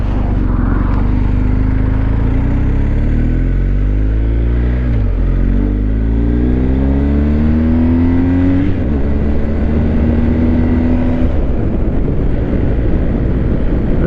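A gray car passes on a road, its engine drone rising and falling in pitch as it approaches and goes by, with steady wind noise across the microphone throughout.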